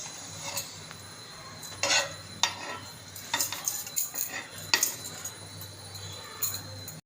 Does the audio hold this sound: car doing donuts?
no